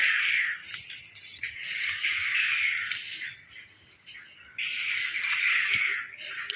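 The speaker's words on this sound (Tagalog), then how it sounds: "daming ibon sa likwag guys" Many birds chirp and twitter at once in a dense, continuous chorus that swells and dips, loud and close, with no voices.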